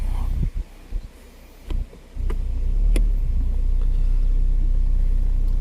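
A Saab 9-3 is started after a few clunks and taps, and its engine catches with a surge, then settles into a steady, low, rumbling idle close by.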